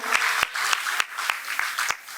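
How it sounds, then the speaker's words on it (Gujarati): An audience at a satsang program in an Ahmedabad prayer centre applauds, with a dense patter of clapping punctuated by sharper, evenly spaced claps, steady and moderately loud. "તેમને તાળીઓ પાડીને આપણે વધાવીશું."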